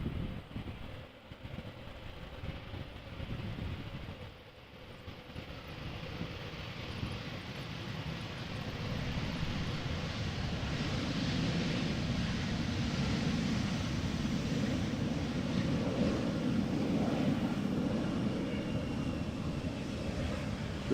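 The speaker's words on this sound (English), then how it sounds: "Looks like a no reverser landing. Too quiet if you ask me." A passenger jet landing at Amsterdam Schiphol without thrust reversers makes a steady, fairly quiet broadband roar that swells slightly as it rolls past, with no voices heard.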